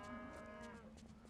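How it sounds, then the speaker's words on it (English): Several cows moo in the Wasteland 2 video game, a herd of overlapping low bellows carrying on steadily through the short stretch, with no talking over them. "Does sound like a bunch of cows, right?"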